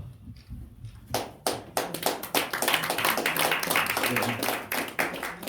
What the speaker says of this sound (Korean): 주님의 박수.